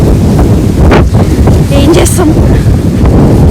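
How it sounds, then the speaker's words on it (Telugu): Strong headwind buffets the microphone on a UK street, a loud, constant roaring rumble with gusting surges, while someone speaks briefly over it. "గాలి సౌండ్ వినిపిస్తుందా మీకు? ఎంత గట్టిగా వస్తున్నాయి ఎదురుగాలులు."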